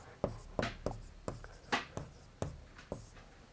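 A marker or pen writes out a triangle-area formula during a Class 12 vector algebra lesson, giving a series of crisp, close strokes in an uneven rhythm, about ten distinct scratches with no talking.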